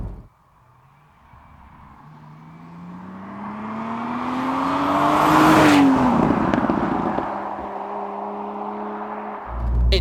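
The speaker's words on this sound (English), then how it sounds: "This has the BMW B58, the 3-litre straight-six twin-scroll turbo-powered monster of an engine" Morgan Plus Six with a BMW B58 3-litre straight-six twin-scroll turbo engine revs up, the pitch rising steadily to a loud peak and then dropping back to a lower hum, heard alone and close.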